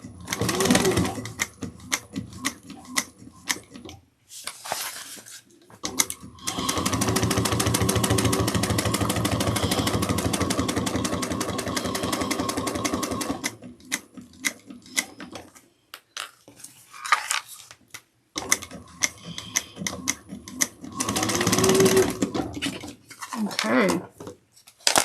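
A sewing machine stitching a crossbody bag with back stitching, short whirring bursts giving way to one long continuous run of rapid stitching, then more stop-start bursts, with someone talking in the pauses.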